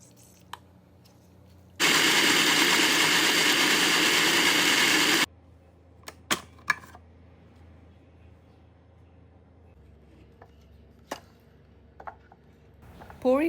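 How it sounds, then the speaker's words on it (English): A kitchen blender runs loud and steady for about three and a half seconds, pureeing black beans, Greek yogurt, garlic, chili powder, cumin, salt and lemon juice, then stops, leaving a few soft clicks and knocks. "The ingredients going into the blender"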